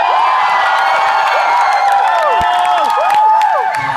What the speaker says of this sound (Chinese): 大声一点欢呼